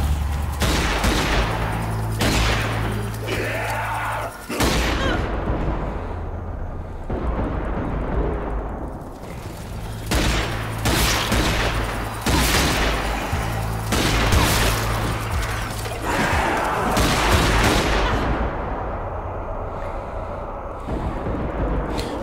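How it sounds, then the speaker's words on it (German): Sustained gunfire from the zombie shooter Zombie Army 4, dense overlapping bursts and single loud shots rolling on almost without pause, heavy booms underneath, loud and close. "Aber man darf nicht aufhören zu schießen, merkt ihr gerade."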